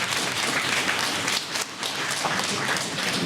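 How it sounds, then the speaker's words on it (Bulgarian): Dense, even applause from an audience at a poetry competition final, sustained for a few seconds with a brief dip in the middle. "Аплодисменти."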